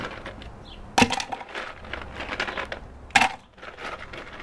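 Ice dropped into a cocktail mixer for a piña colada, two sharp clattering cracks about two seconds apart over quiet rustling background.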